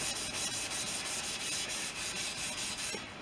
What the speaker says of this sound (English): give it a light keying with the Scotch-Brite